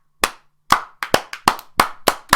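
Hand clapping from a small group, about eight sharp claps in an uneven rhythm, loud and close with short gaps between them.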